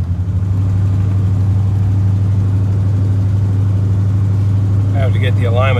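A 1973 GMC motorhome's engine running while driving: a steady, loud low drone with constant road rumble, and a person starts talking near the end.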